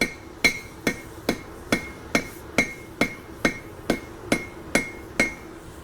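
Ball peen hammer striking hot stainless steel at a forge, a dozen sharp metallic blows at an even, steady rhythm, each with a bright ringing decay, close and clear with no talk.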